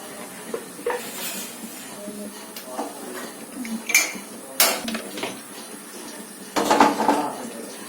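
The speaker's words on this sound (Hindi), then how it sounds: "और अब मैं यहाँ पर चढ़ा देती हूँ कढ़ाई।" Metal kadhai clanks and scrapes onto a kitchen stove while preparing porridge, with several sharp clatters of pans and utensils, light water hiss and soft talk in between.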